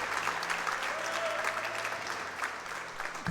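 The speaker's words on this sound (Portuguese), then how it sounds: "Posso ouvir as palmas dos irmãos essa noite?" A church congregation applauds in praise during an evening service, a steady, dense wash of many hands clapping that sounds somewhat distant and subdued, with a faint low hum underneath.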